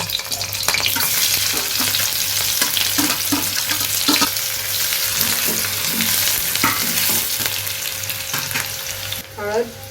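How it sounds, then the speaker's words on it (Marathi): Onion and garlic sizzle steadily in a hot kadhai as the tempering for a village-style Malvani fish curry, with repeated stirring scrapes over the constant frying hiss, close and fairly loud, with no talking. "फोडणीसाठी आपण काय टाकतोय? कांदा आणि लसूण."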